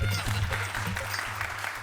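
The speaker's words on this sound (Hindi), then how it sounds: "भाई तालियां।" A group at a meeting claps for Jethalal in a comedy scene, a short, dense burst of clapping with background hum and faint voices mixed in.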